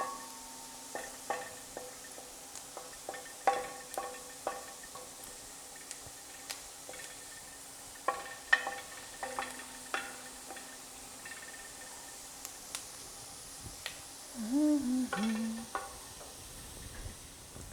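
Rice cooking with onion in a pot, stirred with soft scraping and faint sizzling in scattered strokes, quiet and close.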